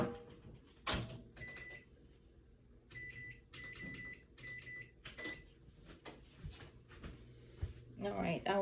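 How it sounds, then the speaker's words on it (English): A dish going into a kitchen oven: clunks and a door shutting, then rhythmic electronic beeps from the oven's keypad and display, close and fairly quiet, with someone talking between the sounds. "let me just put this in the oven real quick"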